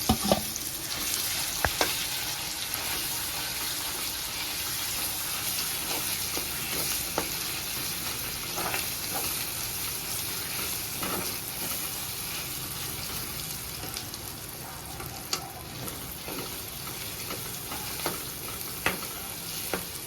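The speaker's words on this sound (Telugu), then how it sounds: "ఇది ఇలా వేగిన తర్వాత పచ్చగా నూరుకున్న పచ్చడి వేసేసి కలిపేసుకుంటాం." Raw mango chutney, ground with tomato and chilies, sizzles as it fries in a pan while being stirred; steady close frying hiss with occasional scraping clicks of the spoon, no talking.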